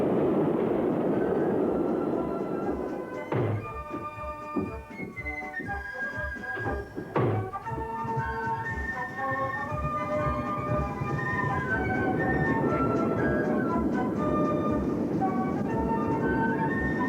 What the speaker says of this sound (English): Transport train on the former Great Northern Railway line from Londonderry approaches the major railway junction of Portadown